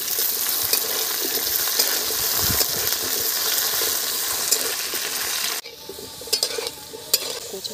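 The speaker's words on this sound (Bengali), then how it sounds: "ভেজে নেব। নুন ফেলে দিই, চিটকাচ্ছে।" Mukhi taro pieces frying in hot oil with salt, a dense steady sizzle with sharp spluttering pops that drops to a quieter crackle for the last couple of seconds.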